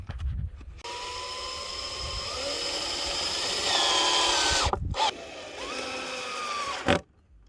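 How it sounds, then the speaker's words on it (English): Power drill driving screws into the wooden frame of a chicken tractor, a continuous loud whirring run of several seconds that steps up in pitch, stops briefly, then whines again before cutting off, no talk. "we are also going to run a screw through the top of here into this wood"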